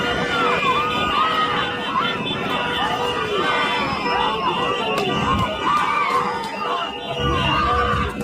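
A crowd shouts and chatters in a loud, continuous babble, with excited voices rising over one another throughout.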